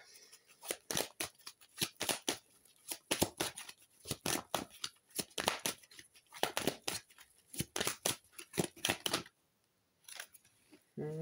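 Tarot cards drawn and handled up close, producing a quick series of crisp papery snaps and flicks in irregular bursts, with a brief pause near the end and no talking.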